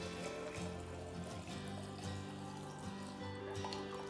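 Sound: water poured from a bottle into a mason jar

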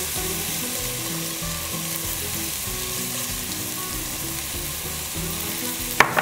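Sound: onions frying in olive oil

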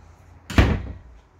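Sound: RV shower door being closed and secured

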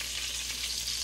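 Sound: meatballs frying in a pan

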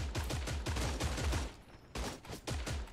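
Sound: gunshots in the video game Creative Destruction

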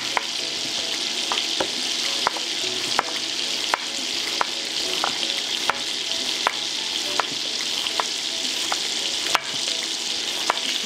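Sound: chicken frying in a pan

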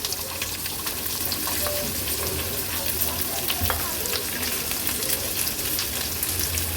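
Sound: onion, green chillies, mustard seeds, cumin sizzling in tempering oil

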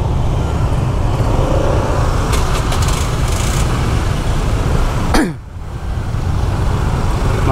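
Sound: road traffic jam in Canggu, Bali

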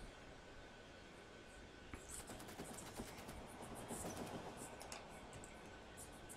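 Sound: train arriving and unloading in the video game Factorio

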